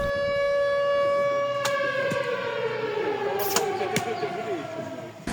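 A long wailing air raid siren sounds steadily in the distance at an archery tournament in Dnipro, its tone slowly falling, with a few faint clicks and thumps nearby.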